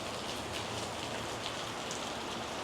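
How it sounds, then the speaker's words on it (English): Steady rain falls outside the Chrome Hearts store in Los Angeles, a constant close hiss of drops hitting pavement and surfaces, with no speech. "we're just at Chrome, waiting in the rain"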